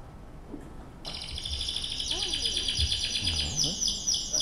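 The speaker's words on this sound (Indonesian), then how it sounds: "Ini suara burung kenari." Recorded canary song played back on a device, a bright rapid trilling and warbling chirp stream that starts abruptly and continues loud and steady, with faint low murmuring beneath.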